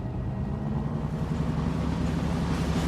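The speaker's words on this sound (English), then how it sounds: "Listen, the engines are starting again." Ship engines starting up in an old radio drama, a steady low throbbing rumble with a dense mechanical hum holding evenly loud throughout.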